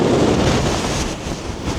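Strong wind roars across the top of the Old Man of Coniston, a steady loud rush buffeting the microphone without pause.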